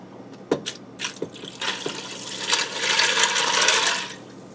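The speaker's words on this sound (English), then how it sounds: "I'm also going to add in 4 cups of tap water." Tap water runs and splashes steadily into a Ninja Foodi pot, building to a full rushing pour after a few light clinks and knocks, then tapering off.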